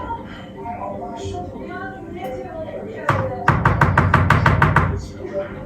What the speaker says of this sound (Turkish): şöyle un kakao karışımını şöyle bir karıştıralım arkadaşlar